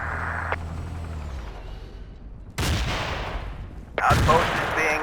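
Artillery barrage in Battlefield 2: two heavy broadband blasts land a second or so apart, each followed by a rumbling decay, after a quieter stretch of low droning engine noise.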